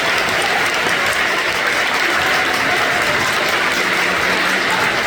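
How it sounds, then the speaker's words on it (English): Loud, steady applause from the audience at the Eastvale City Showcase in a high school venue, clapping for the kids and community: a thick, continuous wash of claps at constant strength, no speech heard. "if we can give just your neighbor, everybody around you, a round of applause"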